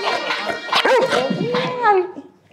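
A pet dog barks and whimpers up close in a loud, expressive run of yips and whining cries with a rising howl-like tone, tapering off near the end.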